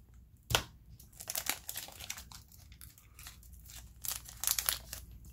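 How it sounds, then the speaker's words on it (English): Crinkly foil trading card packs being snipped and torn open with scissors, a series of sharp crunchy rustles and cuts, close and fairly loud. "Give me the scissors. We're just going to cut these packs for now."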